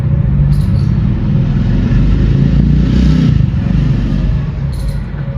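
A Honda Activa scooter engine runs steadily at close range, a continuous low motor drone with faint clattering, holding at a fairly loud level throughout before easing slightly near the end.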